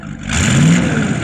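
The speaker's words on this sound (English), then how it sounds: "rev it up." Brief rev of a 1972 Chevy K10 pickup engine fitted with mild mufflers, a loud close rise in engine note that holds for about a second.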